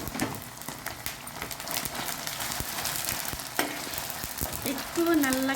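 Ginger-garlic paste and green chillies fry in a pan with a steady crackling sizzle, and short stirring scrapes come through a few times over it.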